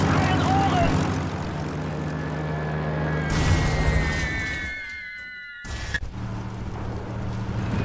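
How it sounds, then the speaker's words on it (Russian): A heavy bomber from Sudden Strike 4 drones past with a steady propeller engine hum under a voice speaking, before a sharp crash and then the engine rumble returning. "Тяжелый бомбардировщик."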